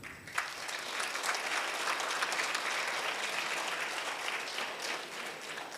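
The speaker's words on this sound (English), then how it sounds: "We can give a big applause to him." Continuous applause from the audience at a telecom officers' association circle conference in Kanyakumari, a fairly quiet, even, dense clapping that holds steady throughout without voices.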